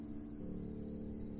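Crickets chirr in a steady, unbroken drone on a cool evening, faint and alone with no voices.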